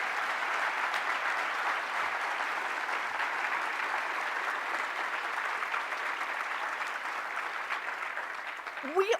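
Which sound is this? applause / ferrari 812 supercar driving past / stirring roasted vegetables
applause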